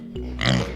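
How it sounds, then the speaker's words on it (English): A pig oinks once in a short, close grunting burst on a farm where hungry pigs go after a lemon, with a steady low hum underneath. "Pig."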